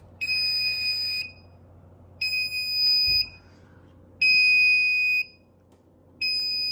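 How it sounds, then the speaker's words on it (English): A self-diagnostic emergency light's service alarm buzzer sounds shrilly in repeated one-second bursts separated by short gaps, loud and close, with a faint low hum underneath. "there we have service alarm."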